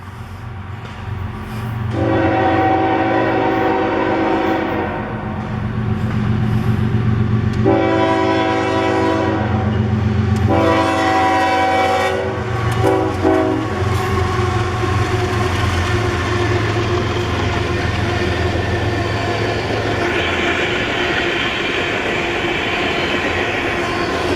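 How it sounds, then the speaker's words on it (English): A long coal train rumbles past steadily while its horn sounds in several loud blasts, some long and some short, over the continuous rolling noise. "Got a coal train coming through."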